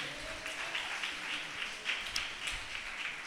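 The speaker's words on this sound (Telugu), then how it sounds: "ఒకసారి గట్టిగా చప్పట్లు కొట్టండి." A church congregation at a fasting prayer meeting claps together in a faint, steady rhythm, the even beats heard from a distance without talk.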